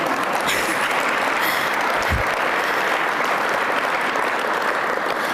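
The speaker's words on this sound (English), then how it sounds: "I'm going to pause for applause" Audience applause at an awards ceremony: a dense, steady wash of many hands clapping for several seconds, fairly loud and even, with a single low thump partway through.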